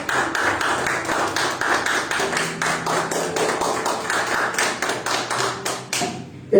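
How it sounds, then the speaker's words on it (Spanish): A congregation applauding in a church, a steady dense patter of many hands clapping for several seconds, fairly close and loud, fading out at the end. "Denle un aplauso"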